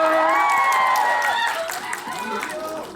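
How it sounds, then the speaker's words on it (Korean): Audience applause at a movie stage greeting in a cinema in Haeundae, a soft crowd clapping and cheering that fills the short moment and fades slightly toward the end. "자, 다시 한번 박수 한번 부탁드릴게요"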